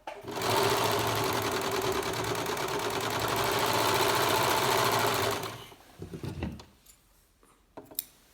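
Sewing machine running steadily and loudly for about five seconds while stitching a garment seam from shoulder toward neck, then stopping, followed by a few soft handling clicks and rustles.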